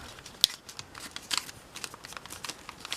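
Paper folded into an origami cat, giving close, quiet crisp crinkles and creasing snaps in short irregular bursts, with one sharper crack near the start and no talk.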